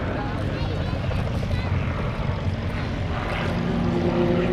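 Aerobatic aircraft flying in formation at Cosford Airshow 2019, rolling through 90 degrees as they climb: a loud, continuous engine roar that fills the whole stretch, with a commentator talking over it.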